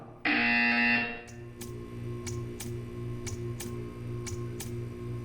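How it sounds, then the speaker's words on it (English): A loud electronic buzzer in Portal 2 sounds for about a second, then a steady ticking continues with regular clicks under a low hum. "You will hear a buzzer."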